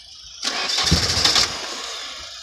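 A Nissan 240SX engine cranks and catches after sitting for nine years, a loud roughly one-second start that settles into a fading run with no talking.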